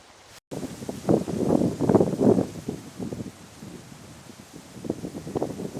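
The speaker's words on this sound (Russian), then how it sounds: "Ветерок приличный так дует." Gusty wind buffets the microphone in low, rumbling bursts that swell and ease over several seconds, with no voices.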